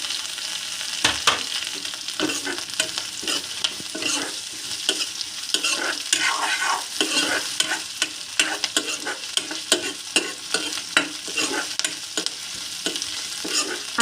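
Ginger and garlic fry with browned onions in a pan for an egg dish, a steady sizzle broken by frequent sharp clacks and scrapes of a spatula stirring, close and without talk.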